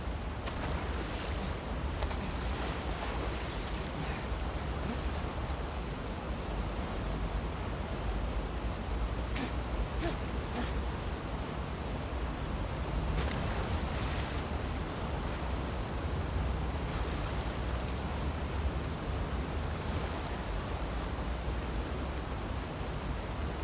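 Steady broadband wash of ocean waves and surf around a swimmer in The Last of Us Part II, a continuous rushing roar with no clear breaks and no voices.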